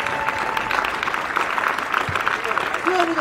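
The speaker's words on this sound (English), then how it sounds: "Give me another hand." Audience clapping for juggling performers, including a kendama act, at a juggling gathering; steady applause from a crowd throughout, with a voice talking over it.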